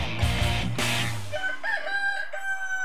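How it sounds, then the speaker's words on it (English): A chicken in the video game Dead Pixels lets out a rooster-like crow and loud clucks over game noise, followed by thinner tonal chirping calls that fade off. "There's a chicken in here!"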